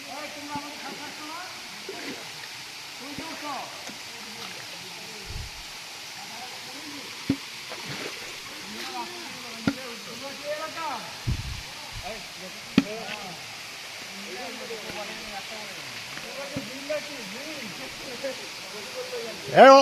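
The Ham Ham waterfall pours in a steady, moderate rushing hiss that runs unbroken for the whole stretch, with voices and a few sharp knocks and clicks scattered over it.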